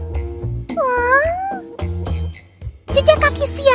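A cartoon cat meowing in an animated children's story, several drawn-out, pitch-bending meows close and clear, interleaved with brief spoken or voiced sounds.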